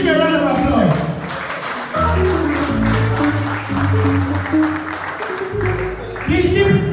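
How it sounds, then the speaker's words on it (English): An audience at a Chicago fundraising event claps to welcome a speaker to the stage. Scattered, fairly loud clapping runs through the middle, partly masked by a strong voice and sustained low tones over it. "Please give him a round of applause."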